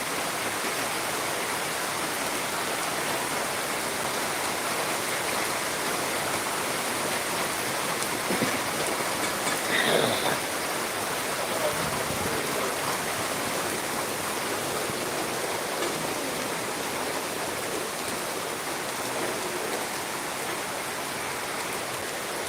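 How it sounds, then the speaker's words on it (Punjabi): Heavy rain pours down in the village of Mallan, Sri Muktsar Sahib district, Punjab, making a dense, continuous roar of rainfall that stays loud and even from start to finish. "ਬਹੁਤ ਜ਼ਿਆਦਾ ਮੀਂਹ ਭਾਰੀ بارش ਹੋ ਰਹੀ ਹੈ ਦੇਖੋ ਮੀਂਹ ਕਿੰਨਾ ਪੈ ਰਿਹਾ ਹੈ"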